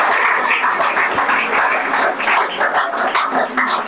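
Dense, steady applause from an audience at a National Youth Day award ceremony on a college campus, sustained crowd clapping at close range with no pauses, loud throughout.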